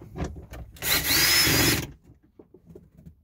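A power tool whirs for under a second while a nut is backed out during a hybrid car blend door replacement, with softer clicks and handling noises before and after.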